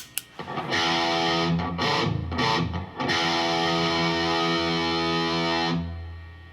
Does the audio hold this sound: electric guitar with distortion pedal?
yes